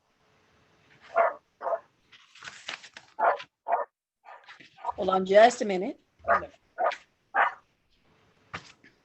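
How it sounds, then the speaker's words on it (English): A small dog yips and barks repeatedly behind a person on a remote call, sharp high barks in an uneven string, with a whimper in the middle, while the person speaks. "Is that your dog being feisty behind you?"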